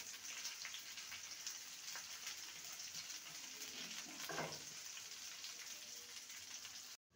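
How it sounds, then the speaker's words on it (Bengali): Chopped onion frying lightly in a pan for a mustard bitter gourd dish, a faint, even hiss like light rain, with a single soft stir midway, cutting off abruptly at the end. "পেঁয়াজটাকে হালকা ভাজবো, একদম সোনালি করে ভাজবো না, হালকা ভেজে নেব"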